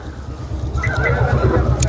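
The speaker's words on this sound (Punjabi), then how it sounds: "ਇਹ ਲਾਲ ਗੱਬਰ ਆਪਣਾ ਲਾਲ ਚੰਬੀ ਘੋੜੀ ਹੈ" A chestnut mare at the Muktsar horse fair lets out a clear, fairly loud whinny that rises and wavers for about a second over steady low crowd rumble and background murmur.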